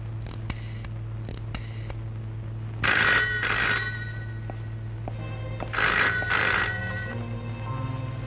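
An old telephone bell rings in two separate bursts, each a double ring, over a steady low hum in a quiet room in a Telugu film scene.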